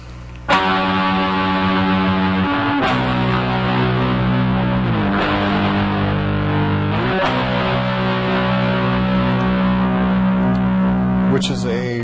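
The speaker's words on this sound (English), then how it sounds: "a heavier guitar part that comes in over the main riff" Heavy distorted electric guitar part from a song, playing sustained, droning chords that layer over the main riff, loud and continuous with a few chord changes throughout.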